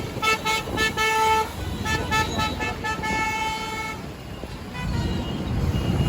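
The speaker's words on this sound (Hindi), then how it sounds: "देख सकते हैं बगल में ट्रक का पूरा जाम लगा है" Traffic jam on a rough road lined with trucks and cars: repeated horn toots and honks over a steady engine rumble, with a nearby vehicle droning past.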